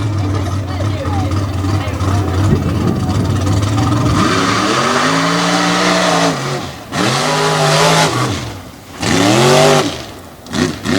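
An orange and white unlimited-class mud racing vehicle roars down the track, its engine revving up and down in repeated loud surges while a commentator talks over it.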